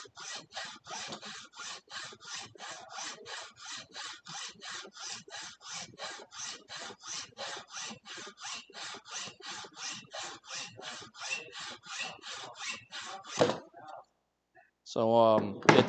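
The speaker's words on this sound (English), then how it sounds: "So it's designed for a hacksaw, so you can just hacksaw your way to victory." A hacksaw rasps back and forth through a wire coil held in a simple homemade wooden jig, about thirty quick, even strokes close up before the cutting stops and a brief clatter follows.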